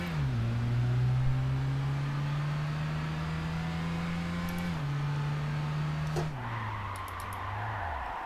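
A race car in Gran Turismo 5 accelerates hard, its engine holding a steady high drone that steps up through gear changes, loud and close, with a few faint clicks near the end and no talking.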